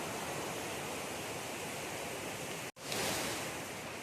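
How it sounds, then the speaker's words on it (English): A small river swollen by recent heavy rains rushes steadily past, a broad hiss of flowing water that cuts out for an instant and resumes, with no voices. "We are going by the little river there on the left. Not all that little. It's had quite a bit of water from the recent rains."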